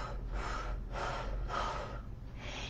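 A person takes slow, deep, airy breaths during a breathwork exercise, with four breath sounds in an even rhythm, near and moderately loud with no talk.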